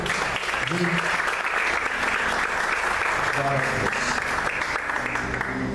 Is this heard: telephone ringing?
no